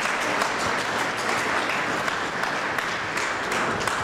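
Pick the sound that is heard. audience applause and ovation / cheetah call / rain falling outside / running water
audience applause and ovation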